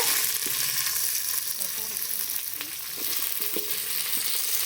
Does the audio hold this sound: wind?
no